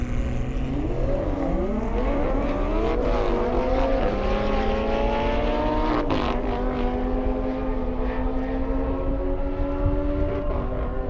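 High-performance cars, a McLaren 720S and an Audi R8, launch side by side in a drag race on an airstrip, engines revving hard and climbing through rapid gear shifts, loud and close throughout with steady roaring.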